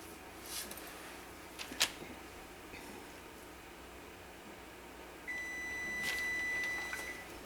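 A kitchen timer sounds during soap making, giving a single steady electronic tone that lasts over a second against a quiet room hum, with a couple of small clicks earlier.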